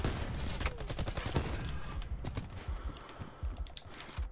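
Video game gunfire, sniper shots in a match, heard as sharp cracks and rattling bursts packed into a few dense seconds, loud and close with no talking.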